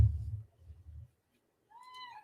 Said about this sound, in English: She'll do this meow.